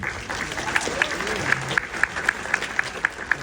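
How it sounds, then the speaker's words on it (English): An audience at an anniversary fan event claps, a moderate wash of applause with a few sharper, evenly spaced claps standing out near the microphone, heard faintly from a distance. "So applause to you."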